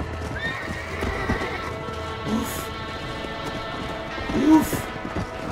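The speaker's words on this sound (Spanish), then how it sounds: "Lleva el caballo al corral." Horse hooves clip-clopping with occasional whinnies inside the Red Dead Redemption video game, steady and moderately loud throughout, with game background sound and brief voices mixed in.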